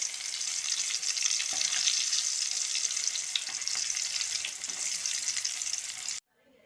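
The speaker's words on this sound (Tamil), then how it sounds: "நல்லா ப்ரௌன் ஷேட் வர வரைக்கும் நல்லா ஆயிலில் பொரிச்சு எடுத்துடலாம்" Chicken pieces deep-frying in hot oil until brown and crispy, a loud steady close hiss and crackle running unbroken before cutting off abruptly at the end.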